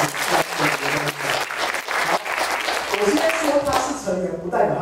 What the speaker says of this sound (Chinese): 大家拍手一下啊